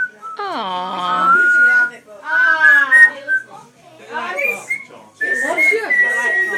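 A grey parrot whistles in bright, sliding tones, several separate phrases close to the microphone, with faint voices in the room.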